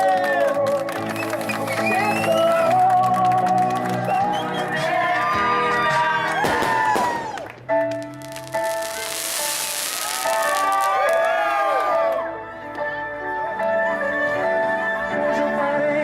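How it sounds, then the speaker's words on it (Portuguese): A crowd at a fifteenth birthday party for a debutante claps and cheers with whoops and shouts, the applause layered over loud ongoing music with sustained tones for the whole stretch. "Uma salva de palmas."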